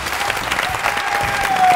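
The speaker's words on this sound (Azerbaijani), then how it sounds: "alqışlar" Loud, steady applause from a studio audience during an evening game show, a thick wash of clapping that swells slightly toward the end.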